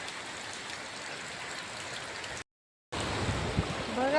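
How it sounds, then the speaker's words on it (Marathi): A heavy downpour roars steadily around a farm shed, a dense hiss of rain on surfaces that cuts out briefly before returning louder, with faint higher chirps near the end. "बघा पाऊस किती जोर जोरात चाललाय."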